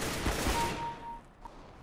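A short burst of gunfire in CS:GO, a quick cluster of shots at the start fading into quieter game ambience.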